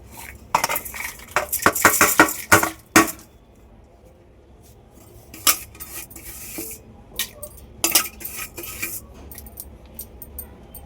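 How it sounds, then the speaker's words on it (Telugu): Ingredients for a raw mango and fenugreek chutney are pounded in a stone mortar, with a quick run of close, hard knocks followed by scattered single thuds and clinks. "ఇలా రోట్లో దంచుకుంటున్నాను"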